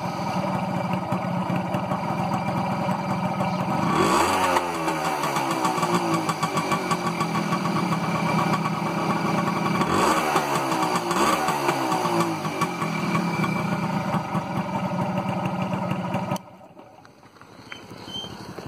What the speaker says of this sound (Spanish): Esta es una moto que regula alrededor de las 1500 vueltas,